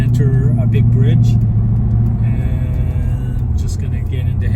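A 2005 Mercedes CLK55 AMG rumbles steadily at low pitch while driving through city traffic, heard from inside the cabin with continuous road noise and someone talking over it.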